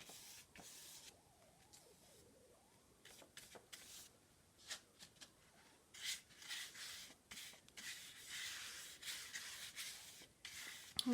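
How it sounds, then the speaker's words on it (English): A large paintbrush strokes orange paint across a ridged plate for a pumpkin craft, giving soft intermittent brushing and scratching sounds in short bursts, fairly quiet and close, with no talking. "I'm just going to take my biggest brush and just start painting my plate."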